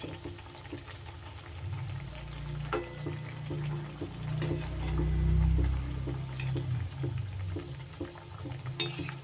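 Thekua dough pieces frying in ghee in a pan, a steady low sizzle and bubbling with occasional stirring clinks and scrapes, swelling louder midway, no talking.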